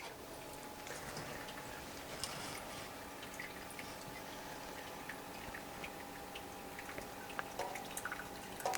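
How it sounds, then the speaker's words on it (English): Hot water poured into a Leverpresso, a Korean 9-bar manual lever espresso maker, giving a faint, thin trickle with scattered small drips and ticks over a quiet room. "add the water"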